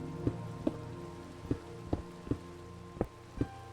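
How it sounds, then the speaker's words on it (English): Steady rain falls in Minecraft as a continuous hiss, with a soft low-pitched thump recurring about every half second over a constant hum. "I think I hear rain"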